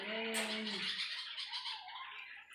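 Birds squawk and call around a home garden with hibiscus, mango and jasmine plants, a loud harsh cry up close followed by softer chattering calls fading over a couple of seconds.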